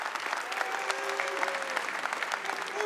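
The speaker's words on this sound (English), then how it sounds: "Let's give them another round of applause." Audience at a tech company keynote conference applauding after live demos, dense steady clapping from a large room, moderately loud and continuous with a faint voice underneath.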